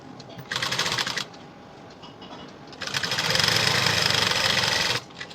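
A sewing machine stitches a high-neck blouse in two bursts, a short run and then a longer, steady whirring run, with quiet pauses between them.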